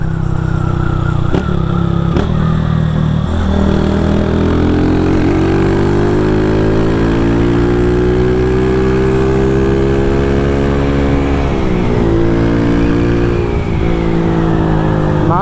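A Honda CG Start 160 motorcycle with an aftermarket exhaust runs loud and close, its exhaust rising and falling as the rider revs it up and holds it, then eases off.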